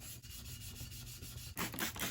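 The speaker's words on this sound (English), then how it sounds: "Take a rag and wipe it off." A rag wipes and rubs the painted chrome bezels of a 1969 Ford Torino Cobra grille, giving soft repeated rubbing strokes close up that grow louder and harsher near the end, with no speech.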